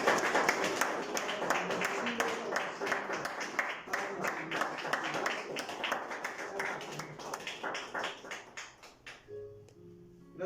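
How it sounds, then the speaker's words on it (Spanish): Church congregation applauding loudly during a Spanish-language evening worship service, dense sustained clapping for about nine seconds that thins out near the end, with a brief voice at the close. "Dale un fuerte aplauso al Señor."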